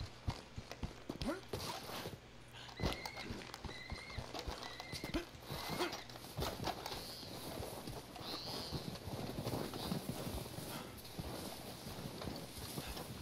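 Horse hooves in Red Dead Redemption 2 clip-clop steadily on frozen lake ground, with occasional snorts and whinnies, heard close and continuous over several seconds.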